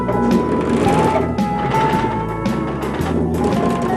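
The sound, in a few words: sewing machine stitching a parachute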